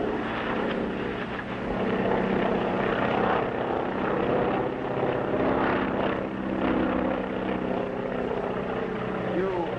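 Aircraft engine drone of a small plane carrying two men over wilderness near an old mining cabin in a 1939 Mountie adventure film, a steady loud propeller roar filling the whole stretch with dialogue faintly beneath it.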